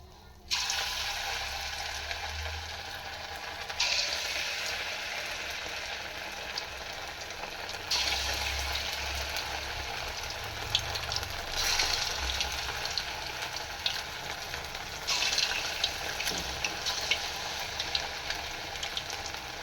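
Leftover rice punugulu batter fritters deep frying in hot oil, a steady broadband sizzle running continuously with a few louder bursts as more batter drops in, no voices.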